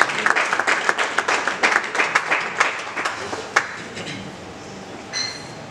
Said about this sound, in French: Nous l'encourageons dans nos acclamations.